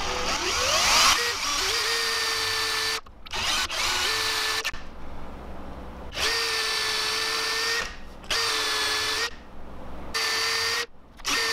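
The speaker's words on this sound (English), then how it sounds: "I hope that's enough, because that's all I feel like drilling." A power drill whines loudly through a thick piece of wood, boring 25 mm holes in several long bursts, stopping briefly between holes and spinning up again each time.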